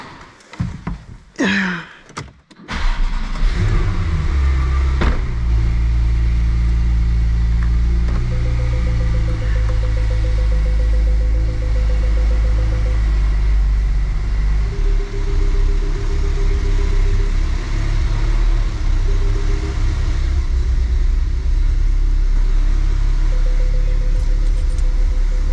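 A Porsche car's engine starts after a door thump and rustling, then runs at a loud, steady, low idle for a long stretch with faint beeping chimes, heard from inside the car and with no clear revving.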